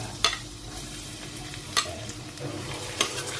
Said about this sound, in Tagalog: Tapos next natin to sibuyas, bawang ko.